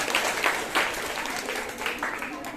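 Audience applause at an interclass quiz final after team scores are read out, a steady wash of clapping lasting a few seconds with some speech-like sounds mixed in.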